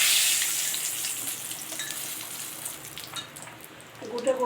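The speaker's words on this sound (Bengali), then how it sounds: "তেজপাতা দিয়ে দিচ্ছি," Bay leaves dropped into hot oil in a Bengali home kitchen, giving a steady bright sizzle and crackle up close that fades slightly, with a brief clatter near the end.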